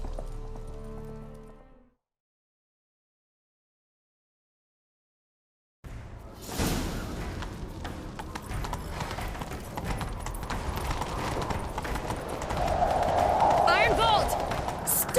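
After a short silence, a horse's hooves pound in a fast galloping rhythm in the video game The Witcher 3: Wild Hunt, with rushing wind and a brief voice over the top near the end.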